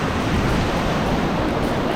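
Ocean surf washes onto a beach on South Australia's Eyre Peninsula as a loud, constant broadband rush that mixes with wind noise and never drops away.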